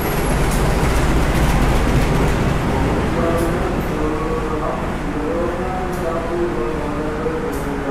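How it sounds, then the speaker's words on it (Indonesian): Loud rumble of the Probowangi passenger train at Gubeng station, heavy low-frequency noise with squealing tones as it moves slowly along the platform. "Dan ini kereta api Probowangi ya teman-teman"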